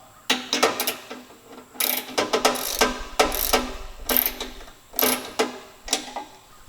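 A ratchet wrench with a socket turns bolts on a 5-inch off-road LED light mount in quick bursts of close, crisp ratcheting clicks separated by brief pauses.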